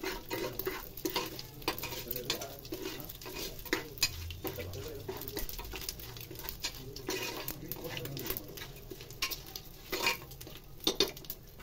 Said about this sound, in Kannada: ಎಣ್ಣೆಲಿ ಸೋಂಪು ಕಾಳು ಸ್ವಲ್ಪ ಬ್ರೌನಿಶ್ ಆಗೋವರೆಗೂ ಚೆನ್ನಾಗಿ ಫ್ರೈ ಮಾಡ್ಕೋಬೇಕು.